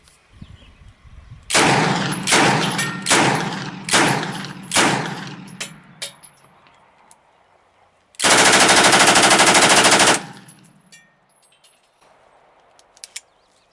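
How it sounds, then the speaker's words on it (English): Loud bursts of rifle gunfire from a firearm fitted with a CF-W A bolt and fired one-handed: several rapid shots in the opening seconds, then a pause and a sustained two-second volley, close and sharp. "I'm going to shoot this one-handed"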